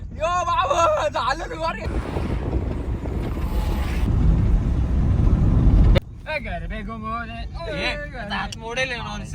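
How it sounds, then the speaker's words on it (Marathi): A car on the road to Saptashrungi Gad near Vani in Nashik district, with steady engine and road rumble plus wind buffeting through the middle stretch; people chat over it at the start and end. "इकडे बघा किरण भाऊ गाडी चालवतोय"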